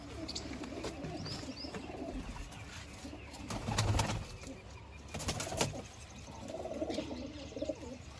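Domestic pigeons cooing steadily close by, with low rolling coos throughout, brief wing flutters and a few chirps, no talking.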